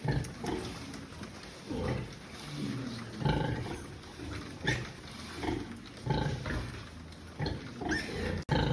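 Low, repeated grunts from a sow during farrowing on a farm come in short bursts over a few seconds, close by, with no one speaking.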